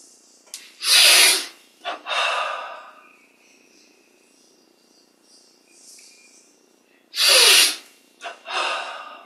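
During a meditation exercise, long deep breaths are drawn in and let out in two clear cycles, each a loud, close, airy inhale followed by a softer exhale, with quiet gaps between.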